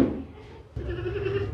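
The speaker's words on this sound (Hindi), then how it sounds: "ये बकरा बहुत ही मोटा खूबसूरत बकरा है" A large, fat male goat at a livestock sale for Qurbani gives a single close bleat with a short pause in the middle, heard plainly with little else around it.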